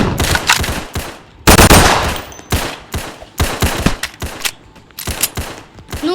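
Rapid gunfire from a shotgun-style weapon blasting zombies in a Roblox game, loud bursts of shots in uneven clusters separated by short pauses, up close and alone.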